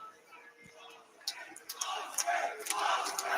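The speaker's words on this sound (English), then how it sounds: "Will Ospreay just engaging the crowd, telling them all to boo Blake Christian and Lee Johnson right there." Wrestling crowd at an AEW Dynamite show booing on cue, the sound swelling from a quiet start into a loud, sustained roar of jeers that fills the arena for the last two seconds.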